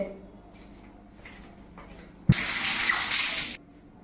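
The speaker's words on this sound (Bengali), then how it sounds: "প্রথমে বেলটাকে আগে ধুয়ে নিতে হবে।" A kitchen tap suddenly gushes at full flow as a wood apple is rinsed under it. The loud, steady splashing lasts about a second before cutting off, after soft handling noises.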